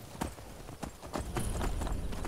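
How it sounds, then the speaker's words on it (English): Horse hooves in the Skyrim video game, a few distinct clip-clop beats in an uneven rhythm, close and fairly loud over a low rumble. "Come on, horse."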